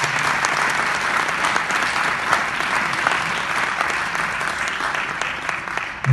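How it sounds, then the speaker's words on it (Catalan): Audience applause for a llagut from Muro at a gathering of rowers, a dense steady wash of many hands clapping at close range that continues evenly without a break. "Un aplaudiment, per favor"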